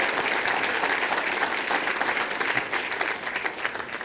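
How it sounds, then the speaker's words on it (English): Dense applause from a crowd at an award ceremony at the New York Athletic Club, steady and sustained throughout with no pauses. "round of applause, the New York Athletic Club"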